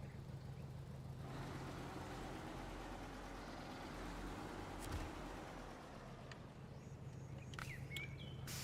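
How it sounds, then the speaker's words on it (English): A truck engine idling in SnowRunner, a low steady rumble running throughout at fairly low level, with a few faint clicks and chirps near the end. "I do like the sound of that truck when it's idling"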